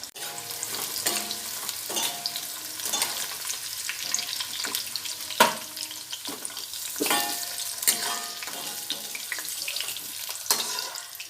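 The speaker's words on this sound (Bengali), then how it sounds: "সবজিগুলো হালকা হালকা করে ভেজে নেব এবার দিয়ে দিচ্ছি গাজর" Mixed vegetables including carrot frying lightly in oil in a pan, a steady sizzle broken by repeated stirring and scraping strokes of a spatula, close up and without speech.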